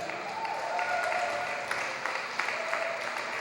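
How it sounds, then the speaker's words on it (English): An audience at a Brooklyn panel event breaks into steady, sustained applause, a dense wash of clapping that fills the room at moderate loudness. "That deserves a round of applause."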